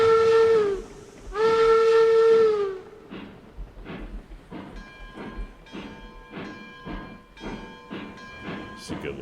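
A steam locomotive in the RailRoads Online game pulls out, opening with two long whistle blasts, then a series of loud chuffs that quicken and fade slightly over time, with someone talking over it.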